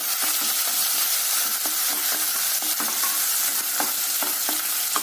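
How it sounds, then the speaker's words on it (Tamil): Chopped onion with mustard seeds and urad dal sizzles and fries in hot oil, a constant crackling hiss broken by repeated soft scrapes of a stirring spoon, close and alone. "சேர்த்துட்டு நல்லா வதக்கி விடலாங்க இந்த எண்ணெயில."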